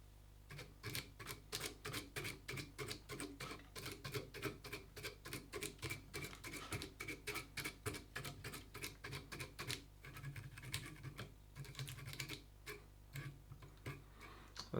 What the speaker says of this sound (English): the vise slides here and there when I brush out the dubbing